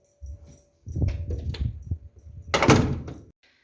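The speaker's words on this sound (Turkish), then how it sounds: "Kapıyı kapatacağız anneciğim hadi." Someone shuts a door at home: soft shuffling and light thumps lead into a single loud, sweeping thud near the end, then quiet.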